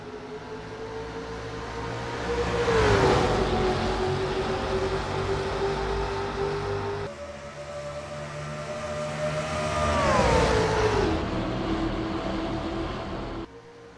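Stock cars in a Talladega Super Speedway race in a racing video game roar away at the green flag. A loud engine drone rises in pitch, drops, then climbs again as the pack passes close, with no talk.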